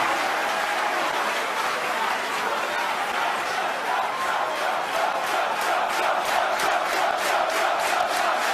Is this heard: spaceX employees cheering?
yes